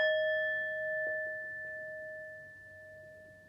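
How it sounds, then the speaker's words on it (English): A singing bowl rings with a steady sustained tone and bright overtones, slowly fading over several seconds in a quiet room, with a few faint soft bumps beneath. "So what I have here is my singing bowl,"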